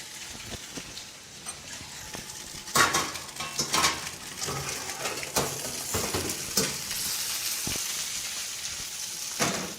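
Lamb kebabs sizzle loudly as a tray is taken from the oven, metal trays and utensils clattering and scraping nearby, with an ongoing crackling hiss underneath.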